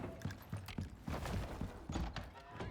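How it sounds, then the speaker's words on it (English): Horse hooves clip-clopping in the survival game Icarus, a run of soft thudding steps under game noise and a little talk. "What's that sound? Is that a horse?"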